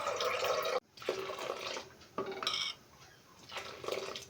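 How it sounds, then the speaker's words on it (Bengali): Milk pours into a wok set on a gas stove in a close, splashing stream that breaks off and restarts a few times, mixed with light clinks of the pan. "কড়ার মধ্যে দুধটা দিয়ে দেবো।"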